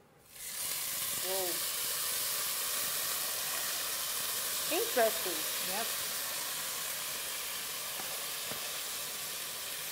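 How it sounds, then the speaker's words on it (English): Rice frying in hot oil alongside browned, crisp spaghetti, giving a steady, close sizzle and hiss that runs through the whole stretch, with brief voices reacting over it. "It's like you're frying the rice."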